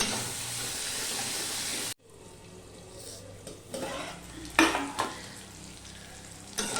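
Ginger, green chillies and tomato cook in a pan: a strong hissing sizzle at first cuts off abruptly, then gives way to a quieter simmer broken by a few stirring scrapes and clatters.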